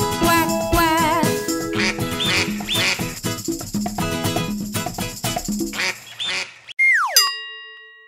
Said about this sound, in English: he led the others with the quack, quack, quack.